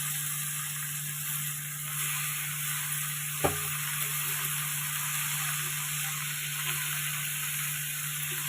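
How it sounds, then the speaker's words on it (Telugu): Spinach being stirred in a pan over a steady broad sizzle, with one sharp utensil knock partway through and faint scraping; no talking. "వేసుకున్నప్పుడు ఒకసారి బాగా కలుపుకోవాలి"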